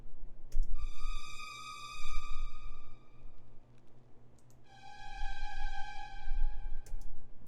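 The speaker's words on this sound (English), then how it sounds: "So this is what the strings sound like." Two long, sustained string notes play one after another, rich in overtones and dark in tone, with faint clicks in the background.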